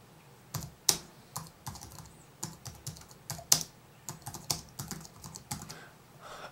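Computer keyboard typing while labeling in QGIS, with scattered single keystrokes and a few short runs of clicks, close and quiet, with no talk.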